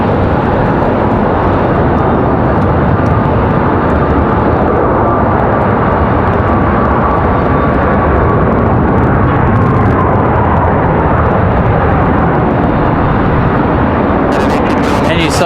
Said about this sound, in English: Nice touchdown for the Max.